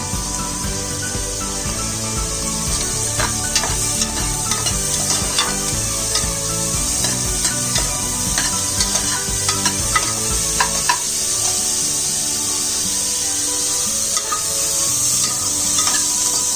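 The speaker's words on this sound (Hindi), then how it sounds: "साथ ही इसमें मशरूम भी डाल दूंगी, जिससे प्याज और मशरूम एक साथ पक जाए।" Onions and mushrooms fry in a pan with a steady loud sizzle, while a spoon scrapes and stirs them in repeated irregular strokes.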